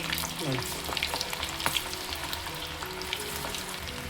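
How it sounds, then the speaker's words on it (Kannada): A corn mixture is dropped into hot oil for a North Karnataka snack and fries with a steady, close sizzle. Brief stirring scrapes and small pops run through the four seconds. "ಇದನ್ನು ಇದೇ ಥರ ತೊಗೊಂಡ್ಬಿಟ್ಟು ಈ ಥರ ಬಿಸಿ ಎಣ್ಣೆಗೆ ಬಿಟ್ಕೊತೋಬೇಕು"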